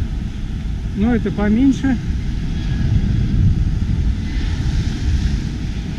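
An airplane flies overhead near Nai Yang beach by the airport in Phuket, a steady broad roar mixed with wind noise, while someone speaks briefly over it.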